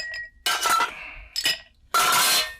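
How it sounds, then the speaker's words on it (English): Ice cubes dropped into an old fashioned cocktail glass, giving three separate bursts of clinking and rattling, near and fairly loud, with no talk over them. "so let's add some ice to this."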